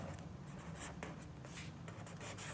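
Pen or marker writing during a Class 9 math lesson on sets produces a steady scratchy rubbing that runs the full length of the stroke, close and fairly quiet, with short bursts as letters and numbers are formed.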